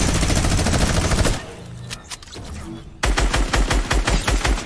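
A minigun in the Fortnite video game fires in rapid continuous bursts, loud and close, breaking off for a moment of quieter scattered shots before the fast rattling resumes.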